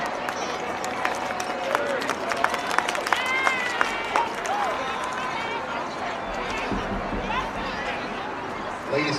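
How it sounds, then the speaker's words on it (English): A crowd in a middle school basketball gym applauds both teams amid loud chatter, shouts, running footsteps and squeaking shoes, a busy, continuous mix with the clapping spread throughout. "Let's give both teams a round of applause."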